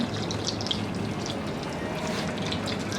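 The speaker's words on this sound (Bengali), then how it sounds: "আমি কিন্তু লোয়ার মিডিয়াম আঁচের মাঝামাঝি ভাজতেছি এটাকে" An egg fries in a generous amount of oil over lower-medium heat for an egg curry, with a steady close crackling sizzle that holds evenly throughout.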